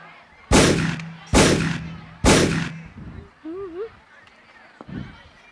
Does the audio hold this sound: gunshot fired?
yes